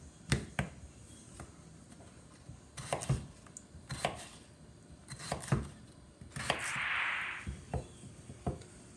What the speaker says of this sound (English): Now we'll just continue cutting up the vegetables.